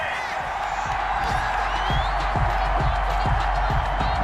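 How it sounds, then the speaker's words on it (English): A football stadium crowd at an NFL preseason Jets game voices its anger over a penalty, a loud, steady roar of jeering that fills the whole stretch without letting up. "the crowd doesn't like that"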